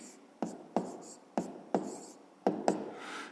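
A pen scratches on paper while a math exercise is worked out, about six short, sharp strokes spaced unevenly, quiet and close.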